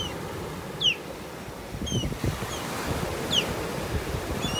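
An osprey calls from a beach in North Naples, Florida, with a few short, high chirps at a distance over steady surf and wind noise.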